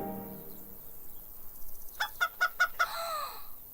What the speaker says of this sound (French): petite poule, viens ici.